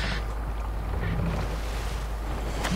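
Viking longship under sail on open sea in Assassin's Creed Valhalla, with a steady rush of wind and water and waves washing along the hull, continuous and fairly close, with no talk.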